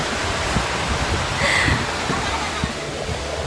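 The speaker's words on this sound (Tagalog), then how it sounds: "Yan, dagat." Constant broad roar of sea surf and rushing water at a beach, loud and continuous, with faint voices mixed underneath.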